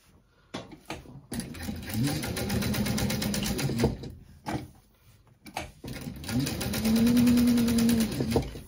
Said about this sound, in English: going to top stitch about an eighth of an inch from the outer edge.